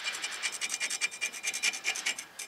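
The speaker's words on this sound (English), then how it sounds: "You scrape that off." Rust scale is scraped off the surface of a brake rotor from a 2012 Dodge Ram Bighorn 1500 in a run of quick, rhythmic rasping strokes, close and fairly quiet, with no talking.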